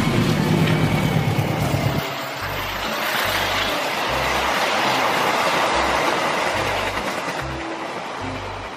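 A cargo wagon rolls past in the dinosaur park game Jurassic World Evolution 2. A steady rail rumble with rhythmic low clacking of the wheels stays fairly loud, after a harsher noisy opening burst.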